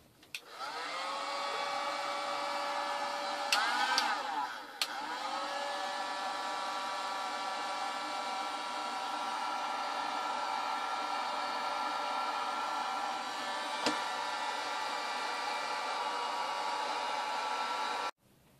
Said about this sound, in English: then I'll use a heat gun to get more heat.